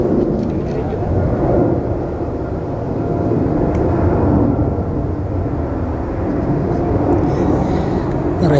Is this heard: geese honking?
no